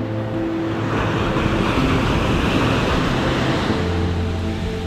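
Ocean surf washes steadily at Lakes Entrance while fishing for salmon, with a loud, continuous roar of waves and wind rumble and no speech.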